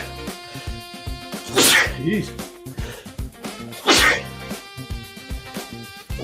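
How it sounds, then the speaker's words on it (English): A person sneezes loudly twice, a few seconds apart, with a short exclamation and talking in between during a live stream. "I'm going to sneeze."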